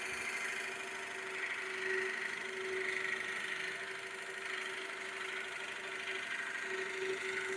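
Drill running steadily at about 800 RPM with a Forstner bit hollowing out material, a continuous even whine with a faint underlying rumble and no talking.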